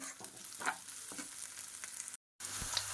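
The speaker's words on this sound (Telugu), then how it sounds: "సో, అల్లం వెల్లుల్లి పేస్ట్ అయితే బాగా వేగాలండి." Ginger garlic paste frying in a pan for a colocasia kurma, a steady close sizzle with occasional stirring scrapes, briefly cutting out near the end before the frying resumes.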